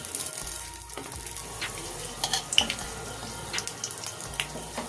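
Four peppercorns, four cloves, two cardamom pods, two cinnamon sticks and two bay leaves temper in hot oil for a rui fish curry, giving a close, steady sizzle dotted with sharp crackles and pops.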